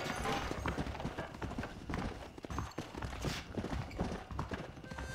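Steady horse hooves clip-clopping at a walking pace in the video game Red Dead Redemption, close and clear over a busy background ambience.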